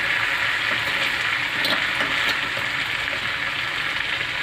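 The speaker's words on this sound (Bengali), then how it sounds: "এবার আমার পেঁপে আলু ভাজাটা এতে আমি দিয়ে দিলাম।" Papaya and potato pieces fry in hot spiced oil in a pan, a close, steady, bright sizzle with faint stirring clicks and no talking.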